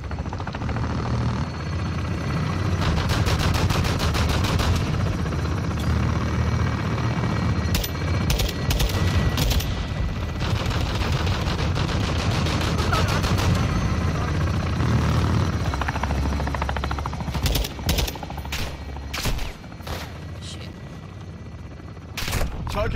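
Helicopter support gunfire in the Modern Warfare 2 campaign: a loud, steady rotor drone runs under dense bursts of automatic fire that come in clustered volleys, with some scattered speech beneath.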